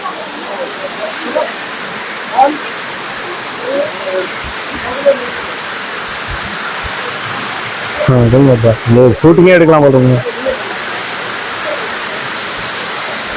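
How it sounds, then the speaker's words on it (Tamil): Water rushes loudly in a steady, unbroken roar throughout, and a person speaks briefly over it near the end. "பாருங்களேன் எவ்வளவு தண்ணி ஓடுதுன்னு. பயங்கர சவுண்டா வரது."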